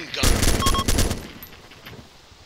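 Machine gun fire in the war video game ArmA 2: a dense, loud burst of rapid shots in the first second, trailing into a fading echo.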